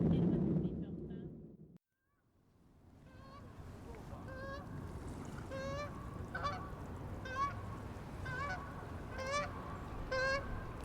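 Geese honking outdoors in Canada, repeated nasal calls in irregular bursts at moderate distance, after a short stretch of louder low noise that cuts to a brief silence.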